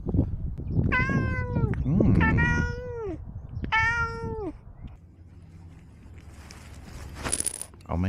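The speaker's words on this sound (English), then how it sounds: "Funny watching cats do stuff" A cat meows three times in drawn-out, falling cries, loud and close, followed by quieter rustling and a brief high jingle near the end.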